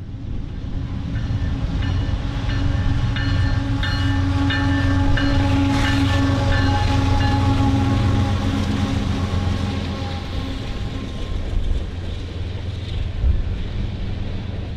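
A CSX grain freight train rolls past on the BNSF racetrack line in Chicago, a loud, continuous rumble of wheels and cars with rhythmic clicking over rail joints and some wind buffeting the microphone.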